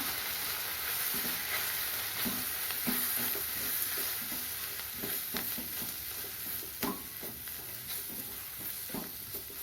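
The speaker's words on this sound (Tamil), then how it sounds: "வெங்காயம் வதங்கிடுது, தூள் சேர்த்துக்கலாம்" Onions sauté in oil for brinjal kuzhambu, a steady sizzle broken by repeated scraping stirs and soft clinks of a spoon against the pan, with no voices.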